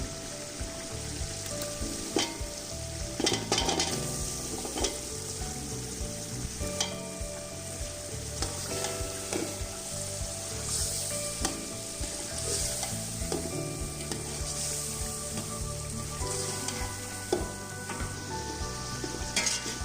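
Potatoes sizzling in a pan of spiced masala for aloo pulao, a dense, continuous fry with repeated scraping and clatter as they are stirred.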